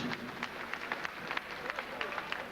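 A boxing crowd applauds after a bout, with scattered, moderately distant clapping and murmuring under a commentator's voice.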